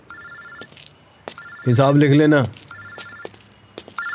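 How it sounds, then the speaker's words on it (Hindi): A telephone rings in repeated electronic bursts, loud and close, with someone briefly speaking between the rings. "अरे दादा हुकुम का फोन है।"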